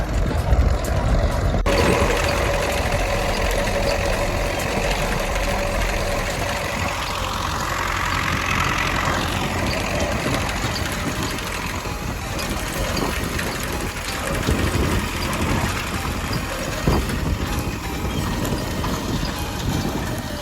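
A tractor-mounted SZ-1.8 seed drill sows soybeans over hard ground, a continuous broad engine and machinery rumble with rattling, steady and fairly loud throughout.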